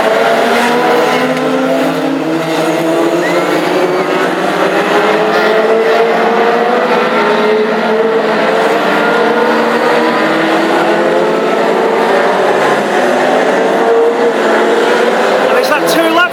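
Classic hot rods race at Hednesford, a continuous loud roar of several engines revving and droning around the oval with occasional tire squeal, while a commentator talks over the noise throughout.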